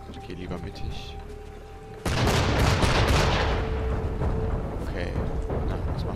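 Cannon fire in the Assassin's Creed 3 video game, a sudden loud boom that kicks off sustained rumbling battle noise, with game sounds present before it.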